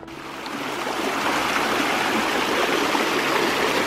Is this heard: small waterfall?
yes